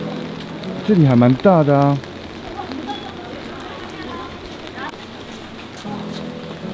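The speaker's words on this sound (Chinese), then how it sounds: "外面又在下雨了" Rain falls steadily outside on Fenqihu Old Street, a constant hiss of drops heard under nearby voices talking and a short burst of louder vocal sound early on.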